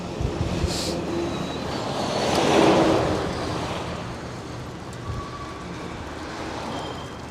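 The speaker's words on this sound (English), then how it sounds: "It is amazing how windy it's become while I've been streaming." Wind rushes and buffets steadily while cycling on roads in Amsterdam West, swelling into a louder gust midway before easing back to a constant roar.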